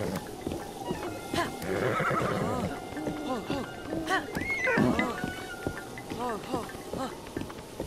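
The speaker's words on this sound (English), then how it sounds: "Saw my horse up here." A horse in the video game Zelda: Breath of the Wild neighs and whinnies several times over clip-clopping hooves, fairly quiet, while a voice talks over it at points.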